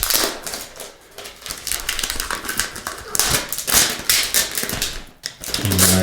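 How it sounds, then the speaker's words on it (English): Protective plastic film being peeled off an XPPen Magic Note Pad, loud close crinkling and crackling in irregular bursts with brief pauses, no voices. "How to remove the plastic."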